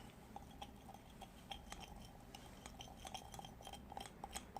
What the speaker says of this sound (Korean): 저어줘서 분말과 글리세린이 잘 섞이도록 이렇게 준비를 해주고요